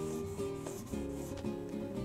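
Soft, steady circular strokes of 600 grit sandpaper on wood repeat in a close, even rhythm beneath a low humming background.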